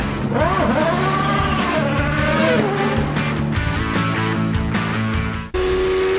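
Champ Car race cars at speed on the 2006 Toronto street circuit at Exhibition Place: loud, high-revving engine whines rise and fall as cars pass close by in quick succession, with an abrupt cut near the end.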